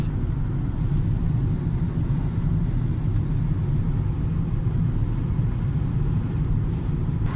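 Inside a Dacia car crossing a long bridge, a steady low road rumble and tyre drone fill the cabin continuously without a break.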